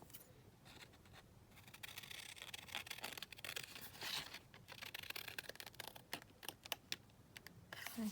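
Scissors cut across paper for a handmade envelope pouch: close, soft snipping and rustling that comes in quick ragged bursts and builds toward the end, with no voice.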